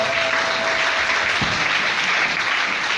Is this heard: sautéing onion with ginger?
no